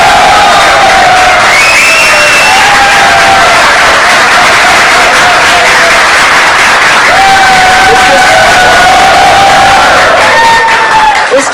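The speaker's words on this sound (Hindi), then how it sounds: "के लिए जोरदार तालियां।" Studio audience at a Hindi cricket talk show covering the India v West Indies T20 World Cup semi-final gives loud, sustained cheering and applause, a dense crowd roar with whoops lasting throughout.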